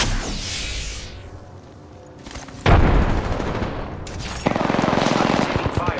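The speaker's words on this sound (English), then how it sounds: "I'm taking fire, friends." Automatic weapon fire in the video game Apex Legends, Arenas mode: loud, close bursts of rapid shots with booming impacts, a brief lull in the middle, then sustained fire resuming.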